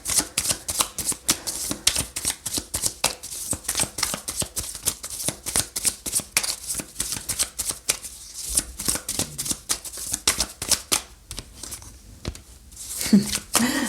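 Tarot cards shuffled steadily and close up for a love reading, a fast run of crisp riffling flicks that keeps going for the whole stretch without pause, with no voices over it.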